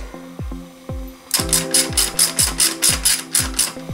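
A ratcheting tool tightens a bolt on the front brake of a 1990s-era Yamaha Serow 225 motorcycle during a brake overhaul, first a few slow clicks, then a quick run of sharp, close clicks.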